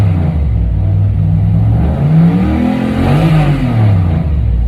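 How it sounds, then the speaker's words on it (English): A car fitted with a full 4-inch exhaust revs up and back down, a loud, close engine roar rising and falling in pitch over a few seconds, with no voices. "let's give this thing a rev."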